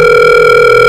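A steady telephone dial tone hums loud and close, an unbroken electronic drone that holds without a break, set within a Hindi audio drama.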